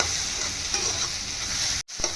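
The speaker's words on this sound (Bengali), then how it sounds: "পুরটা ঠিক এরকম করে ভাজা হবে, যেন একটার সঙ্গে একটা না লেগে থাকে" Crumbly egg patty filling sizzles steadily as it is fried and stirred in a pan, a continuous close hiss that drops out briefly near the end before resuming.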